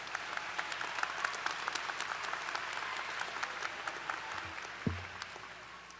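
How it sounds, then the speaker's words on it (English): A crowd claps steadily for Dr. Linda Thompson, Westfield State University's president, at an evening graduate commencement ceremony, the dense applause holding an even level throughout with a brief low thump partway through. "Round of applause for Dr."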